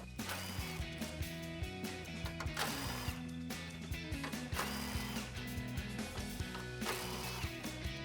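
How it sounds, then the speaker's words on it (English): An impact gun zips off the 10mm grille bolts on a 2019-2021 Chevrolet Silverado 1500 in rapid rattling, ratcheting bursts that come close together, loud and near, with no talking. "Grab your 10 socket, I'm going to use an impact gun"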